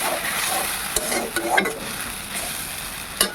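Garlic, onion and tomato sizzling in a pan as a little water is added, giving a close, steady hiss with a few sharp stirring scrapes and knocks.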